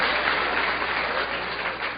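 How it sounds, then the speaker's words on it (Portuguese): Steady, moderately loud applause from an audience at a talk on sexuality, continuous clapping for two seconds without voices. "Essa merece aplausos."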